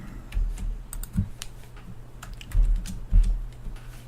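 Soft keyboard taps on a computer while configuring a Raspberry Pi for PDP-11 emulation, a handful of scattered, quiet keystrokes with pauses and no talking.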